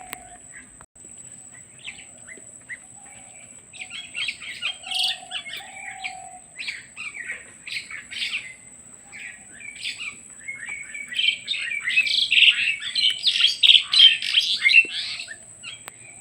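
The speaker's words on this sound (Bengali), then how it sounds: "এখানে 3 পদের শালিক এসেছে, ঝুটগিয়া শালিক, ভাতকর শালিক আর গোবরের শালিক।" Jungle, bank and common mynas call together outdoors in Bangladesh. Sharp chirps, whistles and squawks overlap and grow denser and louder toward the end, with no voices.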